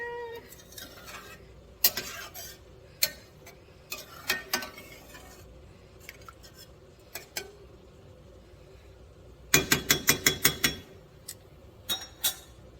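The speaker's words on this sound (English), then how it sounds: "Add the rest of the tomato. Stir it around." Jambalaya with chicken, sausage and tomatoes stirred in a pot: soft scraping and clinking of a spoon against the pot, sporadic taps building to a quick burst of knocks, quiet and close, with no talking.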